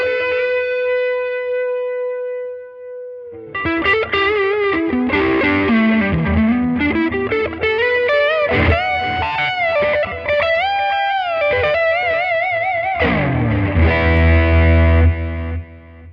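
A Tyler Amps 20-20 guitar amplifier rings out with a sustained distorted electric guitar tone, beginning with a held note and then moving into bending, sliding melodic phrases and a final heavy chord, loud and alone.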